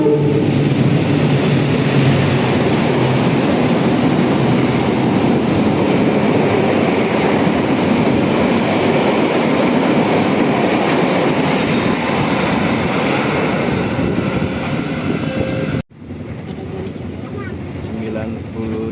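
Sembrani express train running straight through a station on track 2 at full speed, about 120 km/h, a loud sustained roar of wheels and rushing air that holds steady for around sixteen seconds, then cuts abruptly to quieter station ambience.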